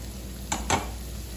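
Onion sautés in butter in a pan under a steady low sizzle. Two quick, close scrapes of a utensil stirring the pan stand out briefly.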